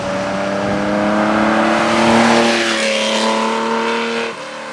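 A Porsche with a 911T engine and a freer-flowing exhaust revs loud and close with a raspy, open exhaust note, swelling then easing off as it pulls away.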